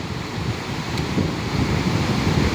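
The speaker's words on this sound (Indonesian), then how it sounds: "air mengalir cukup besar ya." Large volume of water flowing at the Srandakan dam construction site after a flood, a steady broad rushing roar with wind buffeting the microphone, continuous and fairly loud throughout.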